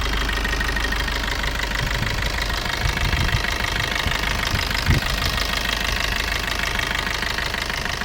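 A 2016-17 Maruti Suzuki Swift Dzire engine idles steadily up close, a continuous loud mechanical hum with a slight knocking texture and one brief thump partway through.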